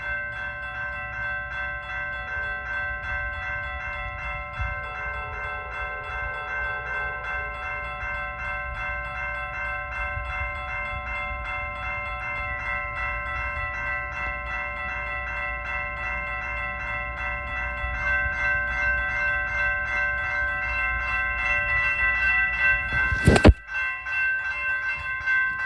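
A Norfolk Southern train approaches a crossing in Wyandotte in the rain, its horn sounding a long sustained chord for a road crossing while crossing bells ring steadily, with a rumble building toward a sharp burst near the end.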